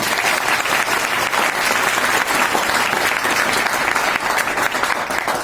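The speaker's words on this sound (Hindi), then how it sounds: "तो उनके लिए भी जोरदार ताली बजाएं" Loud, continuous audience applause at an educational institute event in honour of a teacher, a thick even wash of clapping with no breaks.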